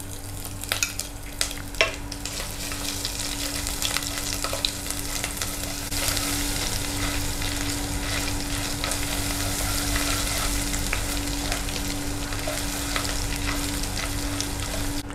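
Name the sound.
garlic ginger paste frying and being stirred in pan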